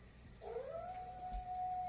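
A single wolf howls in the distance, a faint rising wail that settles into a long, steady note held to the end, heard alone in a quiet outdoor setting.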